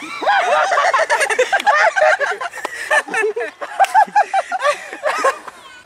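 A voice imitates a hen's clucking with rapid, bubbly cackles and chuckling sounds, close and loud, in uneven bursts.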